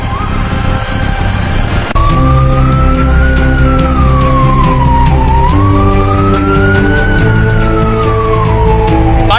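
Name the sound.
police car siren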